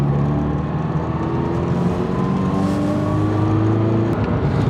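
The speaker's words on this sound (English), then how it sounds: "Why don't we go for a road test?" Steady road and engine noise from inside a GR86/BRZ-type sports car on a test drive, a constant low hum with a faint rising whine, continuous and close with no talk.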